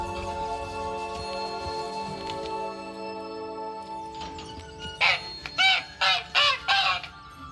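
A caged hen in The Witcher 3 clucks in a quick run of five or six loud squawks near the end, after a stretch of low game ambience and faint background tones.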